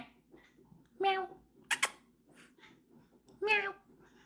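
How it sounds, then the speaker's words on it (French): Cat meowing indoors, three distinct meows spread across the clip, one short and sharp, fairly close and moderately loud over a quiet room. "Oh, mais quel gentil chat."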